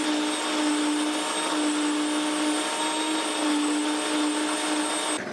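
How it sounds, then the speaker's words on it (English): Electric home wheat mill grinding Red Fife wheat grain into flour, a loud, steady motor whine and grinding roar running continuously up close before cutting off at the end, with no talk. "So we just pull out a scoop of grain, dump it in the top, turn it on, and we get flour."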